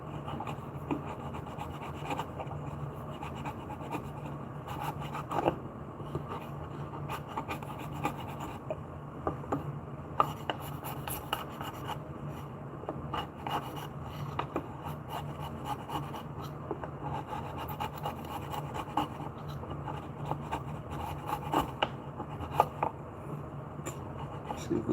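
A cheese knife scrapes and rasps along the wood of a 2x4 mallet in a continuous gritty rubbing, with small irregular scratchy peaks throughout.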